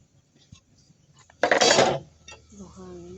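A short, loud gritty scrape as sand and cement are mixed by hand for a homemade firewood stove, one burst lasting about half a second, followed by someone speaking.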